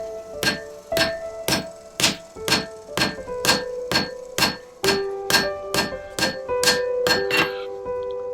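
An old blacksmith strikes metal with a hammer in a steady run of ringing clangs, about two blows per second, loud and close, each blow leaving a brief metallic ring.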